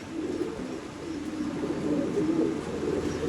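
Several pigeons coo in a steady, low murmur, close by, with no one talking.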